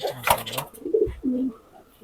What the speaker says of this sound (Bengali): আমি ছেড়ে দেখাচ্ছি কবুতর গুলো